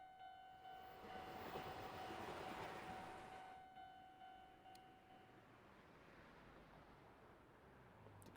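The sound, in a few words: train passing a crossing in Spirit Hunter NG video game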